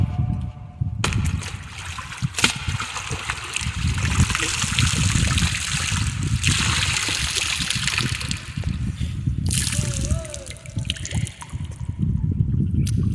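Cloth being washed and rinsed by hand in water, with repeated trickling, dripping and sloshing from wringing and dunking, close by and fairly continuous, with brief pauses.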